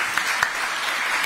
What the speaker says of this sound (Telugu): అందరు చప్పట్లు కొట్టండి మరి.